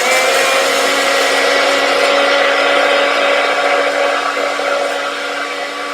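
Blender whirring loudly on high while emulsifying a truffle cocktail, a steady close mechanical roar with a constant motor whine that eases slightly near the end, no talk.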